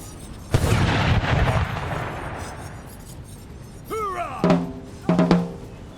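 Musket volleys from Civil War infantry lines in a Bannerlord North & South mod battle: a big rolling crash of massed shots early, then a few sharper separate volleys later, mid-distance, with no talk over them.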